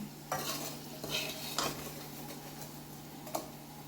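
Potatoes and okra are stirred in a frying pan with oil, producing soft sizzling, with a few distinct scraping and clinking strokes of the spoon against the pan over a steady low hum.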